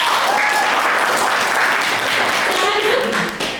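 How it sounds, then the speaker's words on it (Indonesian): A classroom audience applauds group 3 after their presentation, a dense, loud wash of clapping that stays constant throughout, with faint voices underneath. "tepuk tangan untuk kelompok 3"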